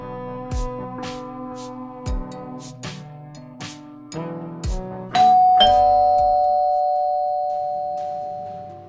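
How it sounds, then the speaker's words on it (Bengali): An indoor doorbell rings with a series of plucked chime tones, then a final ding-dong whose bright tone rings on and slowly fades, loud and close with no talk. "কলিং বেল বাজতে দেখো তো কি আসলো"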